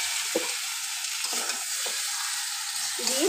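Marinated mutton sizzling in a pan with spice masala, a bright continuous hiss of frying, punctuated by several low scraping stirs of a spoon against the pan, close and unaccompanied by speech.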